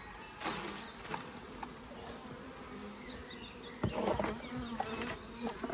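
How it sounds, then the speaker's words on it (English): A dense drone of honey bees buzzing steadily throughout in a hive's supers during a spring split, with a few louder passes and soft knocks in the second half. "These bees in the supers, I mean much younger bees, less flying."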